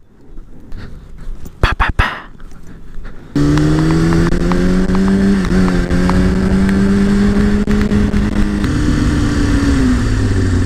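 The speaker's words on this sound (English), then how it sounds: "I'm having such a hard time turning this bike around." A motorbike engine idling and rumbling close by while the bike is turned around, a steady loud drone that rises slightly and dips, following a few scattered knocks and a dog's bark.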